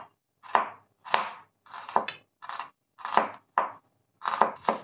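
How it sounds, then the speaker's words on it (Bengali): An onion is diced with a knife on a board, eight or nine distinct close chops in uneven rhythm with short pauses between strokes. "পেঁয়াজটা আমি কুচিয়ে নিচ্ছি"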